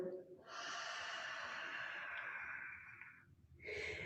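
A long, breathy exhale during a yoga forward fold, close and airy, lasting about three seconds, followed by the start of another breath.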